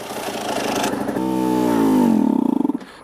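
A KTM RC125 or Aprilia RS125 125cc sport motorcycle being ridden in first gear: a loud, close engine note climbs steadily in pitch, then breaks into a stuttering, choppy burble as the revs drop away.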